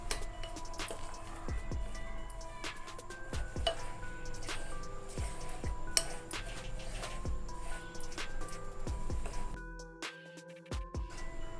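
Semiya roti batter being stirred in a bowl with rice flour, chilli powder and salt, giving soft wet squishing and scattered light clicks and taps of a spoon against the bowl, close and quiet, with a brief pause near the end.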